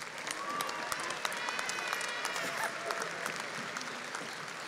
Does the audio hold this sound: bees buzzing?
no